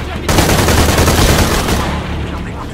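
Gunfire in the video game Shadow of the Tomb Raider, set in Cozumel, Mexico: a sudden, loud, dense burst of rapid automatic shots that runs continuously for about two seconds before tapering off.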